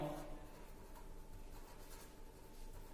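A pen scratches steadily across paper while machine design calculations for a knuckle joint are written out by hand. The faint, continuous scribbling sits close over a low background hum.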